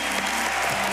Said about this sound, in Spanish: lo único que te va a llevar es este fuerte aplauso